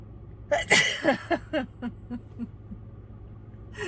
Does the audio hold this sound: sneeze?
yes